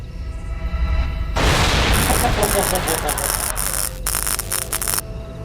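A bomb blast in a horror video game starring Ronald McDonald: a sudden loud burst of broad noise that keeps roaring with crackling, static-like rumble for several seconds, with brief voice-like sounds mixed in near the end.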